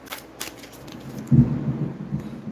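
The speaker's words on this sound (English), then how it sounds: "it's thunderstorm out there" A low roll of thunder from a storm outside swells briefly midway, muffled and distant, over a faint steady hiss.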